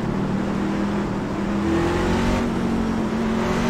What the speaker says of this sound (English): I love the sound of those engines